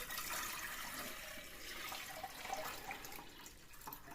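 About one and a half litres of water poured from a container into a saucepan to make a herring marinade, a steady, faint splashing stream that runs throughout.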